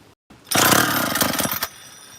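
A retuned chainsaw engine barks into a loud, close burst of revving lasting about a second, with a rough, pulsing roar before it cuts back sharply to quiet.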